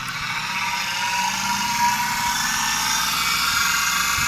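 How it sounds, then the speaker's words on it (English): A rotary converter spins steadily at full speed in a workshop power system, giving a loud, continuous high-pitched whine and hum with no break and no talk. "now that it's up to speed, we'll go ahead and turn the switches for the rotary converter"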